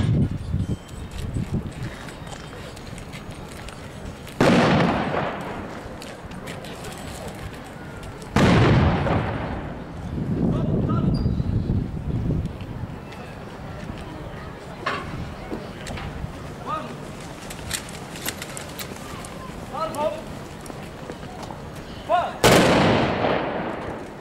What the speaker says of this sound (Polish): Wszystko to odbyło się przy salwach honorowych, armatnych i karabinowych.